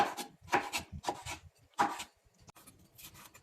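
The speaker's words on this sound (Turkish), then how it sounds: "Kapya biberleri küp küp doğrayıp bir kaseye alıyoruz." A knife taps and slices quickly on a cutting board while canned red peppers are diced, in a loose rhythm of quiet close chops with no talk.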